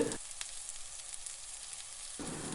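A chicken curry with caramelised onion and potato sizzles and fries on a wood-fired stove, a steady close crackling hiss with no voices.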